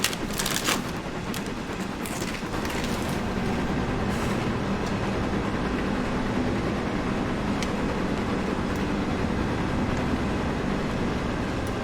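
Steam locomotive in a train simulator game with the blower on, a continuous steady hissing rush with rumbling rail-like noise underneath, a few brief clanks near the start.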